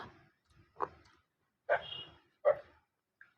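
A dog gives a few short, separate barks and yips spaced over a few seconds, fairly close, with quiet gaps between them and no speech.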